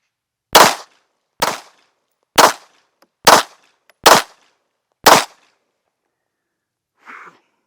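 Six sharp pistol shots fired with iron sights at a 10-yard target, loud and close, spaced roughly a second apart, followed by a faint short sound after a pause.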